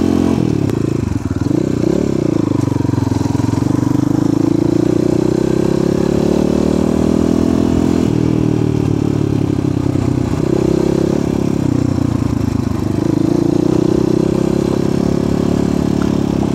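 A 2020 Asian Beast 250 motorcycle on a test ride gives a loud, continuous mid-pitched engine drone with slight rises and dips in pitch, alongside some mechanical clatter and no talking.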